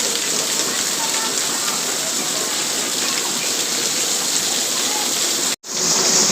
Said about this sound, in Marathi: खूप मोठा पाऊस पडतोय